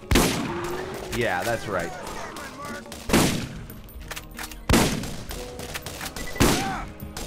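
Gunfire in the video game Borderlands: several heavy, booming shots spaced a second or two apart, each with a ringing tail, mixed with game sound effects while a voice talks briefly.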